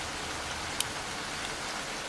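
Steady rain falling outdoors, a continuous even hiss throughout with a couple of faint sharp ticks, no voices.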